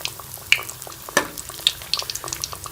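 Aloo nuggets frying in hot cooking oil, giving sparse, irregular crackles and pops over a low, quiet bubbling with no talking.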